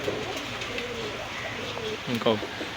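Pakistani high-flyer pigeons coo softly nearby at a pigeon fair in Khulna, in low, throaty calls, with a steady background murmur and some faint voices.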